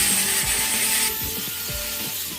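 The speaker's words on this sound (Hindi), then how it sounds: "वेल्डिंग के बाद ग्राइंडर के ज़रिए हम सफाई करेंगे और पॉलिश करेंगे।" An angle grinder cleans and polishes a welded steel rod, a loud continuous whine with rhythmic pulses as the disc presses against the metal, easing slightly partway through.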